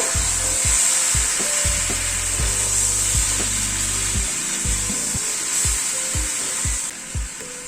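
A spice mix is stirred into pumpkin cooking in a pan: a continuous sizzle runs underneath while a spoon scrapes and knocks against the pan in repeated rhythmic strokes, close up and with no speech.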